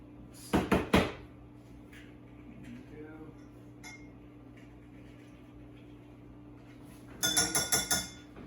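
Bar spoon clinking against a glass while sugar goes in for a mojito, a quick burst of three metallic taps near the start and a rapid run of five or six at the end, with quiet kitchen background between.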